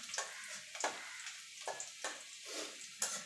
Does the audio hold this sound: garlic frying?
yes